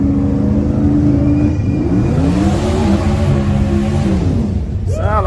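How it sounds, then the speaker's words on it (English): A turbocharged race car revs up close in a loud, rising engine drone, pitch swelling and dipping as it accelerates, with a short sharp chirp at the end. "Sound like he racing a turbo car."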